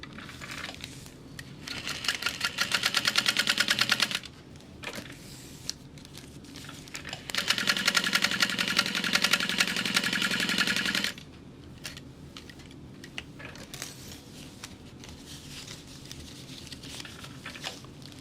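A sewing machine stitches a crossbody bag in two close, rapid runs of needle chatter, each a few seconds long. Softer handling and rustling fill the pauses between them.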